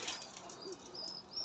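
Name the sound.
flock of birds flapping wings in flight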